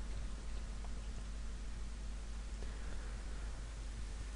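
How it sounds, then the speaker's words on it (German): Steady, dense rain hisses evenly throughout a Zelda: Ocarina of Time cutscene, a constant wash of falling water with no distinct drops or pauses. "Und jetzt regnet es."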